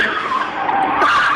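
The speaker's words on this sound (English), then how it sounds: "You hear the sound of him slamming on the brakes." A truck's tires skid hard under sudden braking, a loud continuous screech lasting over a second with no other sounds.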